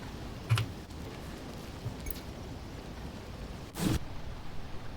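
Steady rain in the farming game Lightyear Frontier patters evenly and fairly softly, with a couple of brief, brighter ticks standing out. No one speaks.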